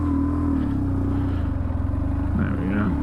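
A BMW R1150GS Adventure motorcycle engine rumbles close by at low revs, a steady deep throb that shifts slightly as the bike pulls away, with no talking.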